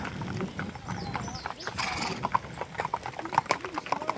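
Three Clydesdale horses pulling a carriage on Mackinac Island clip-clop in a steady, close rhythm on the street, with a brief whinny and people talking over the hooves.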